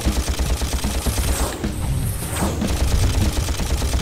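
Rapid blaster fire from Ratchet & Clank rattles out in a dense, continuous stream of sharp shots, briefly thinning before resuming loud and relentless.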